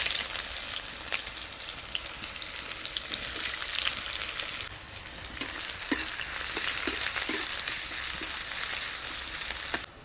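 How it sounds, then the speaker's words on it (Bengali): Chopped onions sizzle and crackle steadily in hot oil after a nigella-seed tempering, while a sour meat curry with raw mango is being cooked. The frying stays loud and continuous, with occasional stirring clicks, and no voices. "এবারে দিয়ে দেবো পেঁয়াজ কুচি।"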